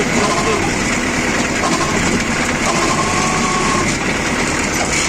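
A New Holland 7056 tractor engine runs steadily and loudly close by on icy ground while spreading fertilizer, a constant rattling drone throughout with voices faintly mixed in.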